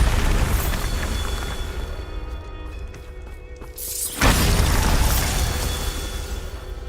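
A Bombarda blasting spell going off in Hogwarts Legacy, a loud, rumbling burst that swells near the middle and holds as a dense roar to the end, with no talk.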